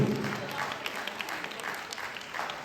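Applause from an audience at a Hindi poetry recital, a kavi sammelan in a Jain temple hall: steady dense clapping from many hands, moderately distant, continuing throughout with a voice faintly beneath it.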